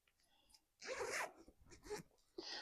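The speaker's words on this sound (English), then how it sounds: "And we will zip him up." A zipper on a silicone baby doll's clothing is pulled up in a few quick rasping bursts at close range, with short pauses between strokes in an otherwise quiet room.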